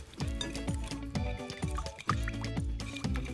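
Salad dressing with salt and pepper whisked in a bowl, a quick rhythmic run of wet clinks and liquid sloshing strokes, close and steady, with no talking.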